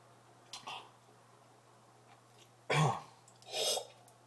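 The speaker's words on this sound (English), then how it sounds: "I was just clearing my throat" A person clearing their throat in a kitchen, one brief soft rasp followed by two louder, harsher throaty bursts close to the microphone against a quiet hum.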